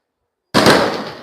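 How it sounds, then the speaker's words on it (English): A single firework burst over downtown Tbilisi, Georgia: a sharp, loud bang after silence that rolls into a long, decaying crackle and echo. "Fireworks in Tbilisi. Straight from downtown."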